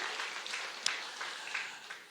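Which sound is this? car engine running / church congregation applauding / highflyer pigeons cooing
church congregation applauding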